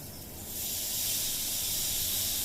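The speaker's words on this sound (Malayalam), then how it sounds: "ഒരു 1/2 ഗ്ലാസ് വെള്ളം ഒഴിച്ചിട്ടുണ്ട്." About 50 ml of water poured into a hot pan of sautéed chilli and tomato for a black chickpea curry, bursting into a loud, steady hiss of steam and sizzle that rises after a brief quieter start.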